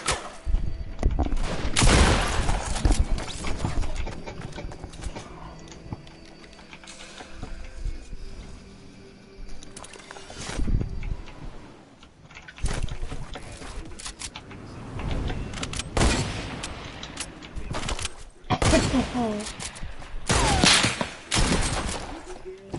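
Gunfire in a shooting video game, repeated loud bursts of shots separated by quieter stretches of game noise over about twenty seconds.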